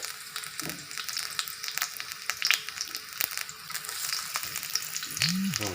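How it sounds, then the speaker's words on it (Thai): Sauce and garlic stir-fried in a pan crackle with a continuous close sizzle, broken by scattered scrapes and clicks of stirring, with no talking. "เราก็มาผัด ตัวซอสนะครับ ใส่กระเทียมลงไปหน่อย"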